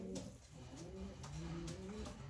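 A 2018 racing pigeon coos softly in low, rolling repeated phrases, faint and close, over a quiet background hum.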